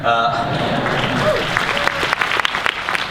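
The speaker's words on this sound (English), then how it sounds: "clap for that, yeah." Audience applause at a creators' keynote at VidCon 2015, a broad wash of clapping with a few sharper claps standing out, while a voice talks over it at the start.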